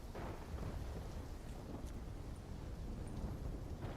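A thunderstorm rumbles in Call of Duty Black Ops 3, with deep, continuous rolling thunder and a rain-like hiss filling the background at a steady, fairly loud level without let-up.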